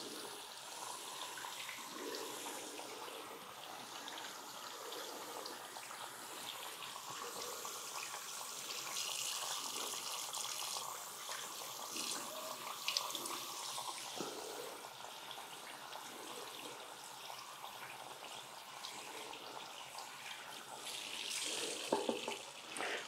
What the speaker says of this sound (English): you gently rinse off the foam. Let the water do the job for you.